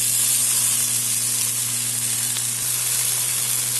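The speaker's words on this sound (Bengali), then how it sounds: "এখন আমি ঢেঁকির শাকটা দিয়ে দিলাম" Dhenki greens tipped into a pan of frying onion and green chilli, giving a loud, close, steady hissing sizzle with a faint low hum beneath it.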